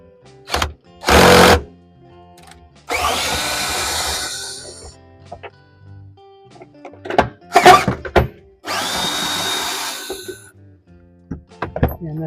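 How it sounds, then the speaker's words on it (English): A ratchet and 18mm deep socket loosen the seat bolts in a two-door Ford Bronco during a camper conversion, giving bursts of rapid ratcheting and clunks separated by short pauses and small knocks, fairly close and loud. "18mm socket, and I'll go ahead and take those off now"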